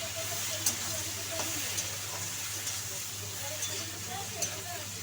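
Thin strips of bitter gourd fry in a pan for shukto, producing a soft, steady hiss and sizzle with a low background hum and a few faint clinks, while a voice talks over it.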